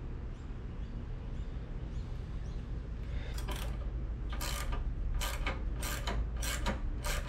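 A nut being tightened on a Harley-Davidson Dyna Fat Bob during a service, with quiet mechanical rubbing followed by several short, bright ratchet bursts close by over a low background hum.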